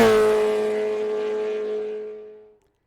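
2-liter PGM V8 motorcycle engine giving a steady, strong droning roar that holds for over two seconds, then cuts off abruptly and goes silent, loud and alone with no talking.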